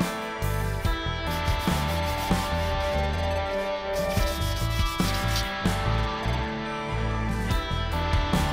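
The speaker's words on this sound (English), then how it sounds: "we're gonna sand the top surface and the back surface of this part" A part for a DIY resin-curing UV chamber being hand-sanded on its surface, steady close scratchy rubbing strokes in a continuous rhythm, loud and alone throughout.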